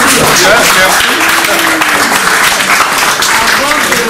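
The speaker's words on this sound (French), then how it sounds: "on l'applaudit quand même." A crowd applauds at a talk on the concept of politics, a continuous loud wash of clapping with voices mixed in underneath.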